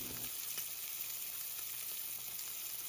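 A ribeye steak sears in a pan over medium-high heat, giving a steady, close, even frying sizzle throughout with no voices.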